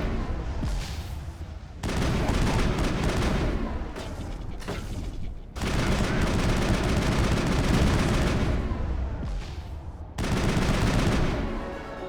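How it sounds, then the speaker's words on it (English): Sustained heavy gunfire from the squadmate Wrex in the video game Mass Effect, loud and dense bursts of automatic shots and booms that pause briefly a few times before resuming. "Rex, shoot at him, please."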